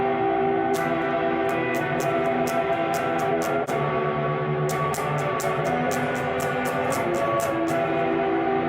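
Electric guitar played through a Boss Distortion pedal: sustained, gritty chords with repeated strums and picked accents in steady bursts, loud and close with no voices.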